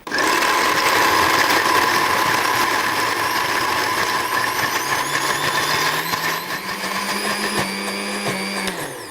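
A food processor motor whirs loudly as it blends garlic and almonds for soup, a steady close drone whose pitch shifts as the load changes, ending with a clatter and no talking.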